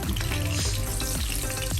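Lemongrass sizzles and crackles in hot oil, a steady close frying sound with a few stirring scrapes.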